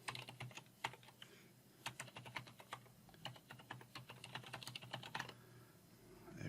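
Keystrokes on a computer keyboard as an email address is entered, clustered taps in quick bursts with short pauses, fairly faint and close, no talking.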